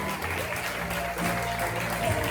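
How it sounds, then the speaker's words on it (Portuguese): A church congregation claps together, a continuous, even wash of applause filling the short moment without a break. "Dê um forte aplauso a Ele."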